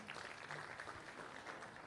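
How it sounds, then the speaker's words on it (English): An audience at an IPO conference claps in a brief, dense patter of applause, moderately loud and even, with no voices over it. "A round of applause, ladies and gentlemen."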